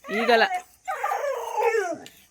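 A tied-up village farm dog whines and howls in two drawn-out, wavering cries, close and loud, with a short pause between them.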